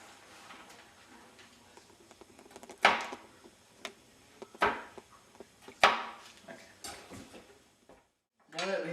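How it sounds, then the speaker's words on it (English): A knife chopping walnuts on a cutting board in a home kitchen, a series of sharp irregular chops and taps spaced a second or so apart, close and fairly quiet, with a brief gap and a louder clatter at the end. "I should chop some walnuts"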